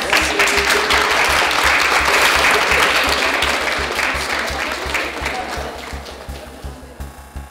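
A theatre audience gives sustained applause, loud and dense at first and gradually thinning out, with a low rhythmic thumping running underneath.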